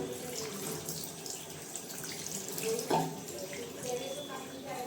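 Water runs from a tap while hands and feet are washed, a soft, steady splash with brief louder gushes, heard quietly outdoors with faint talk in the background.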